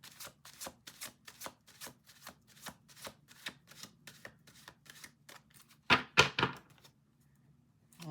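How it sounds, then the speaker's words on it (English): Crisp, rapid riffle of tarot cards being shuffled, a regular series of short snaps, then a few louder slaps as the deck is squared, close and alone. "We're going to do 2 more shuffles."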